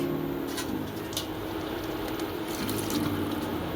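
A little water is poured into a cooking pan of shapla stems with prawns for a Bengali dish, a soft, steady trickle and faint sizzle heard close and quiet for a few seconds.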